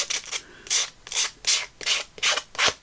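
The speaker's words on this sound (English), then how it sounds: "I'm just going to sand the edge" Sandpaper rubs back and forth along the edge of a journal cover in six or seven close, even strokes, each a dry rasping scrape with short pauses between, and no voices.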